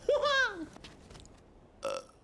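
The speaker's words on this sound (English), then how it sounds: "First they snack, then they burp, then they talk." A single loud, drawn-out burp after a snack on a kids' TV show, with a fainter second burp or grunt near the end.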